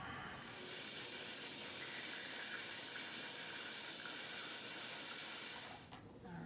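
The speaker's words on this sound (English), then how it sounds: "Okay, I'm getting some Kangen water here." Kangen water runs steadily from an ionizer machine's tap into a container, a continuous close hiss and trickle with a faint mechanical whir, easing slightly near the end.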